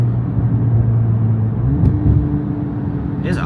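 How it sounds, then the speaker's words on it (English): A Corvette Z06 heard from inside while driving, with a steady loud engine and road rumble and the engine note shifting as the automatic downshifts partway through. "It's auto downshifting right now."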